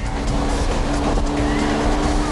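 A Lamborghini sports car roars continuously close by, its loud engine note steady throughout, with a hint of tire noise.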